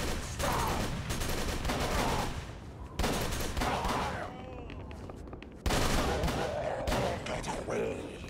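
Rapid gunfire bursts in the horror video game Call of Cthulhu: Dark Corners of the Earth, dense and loud in three stretches with sharp cuts between them and game voices mixed in.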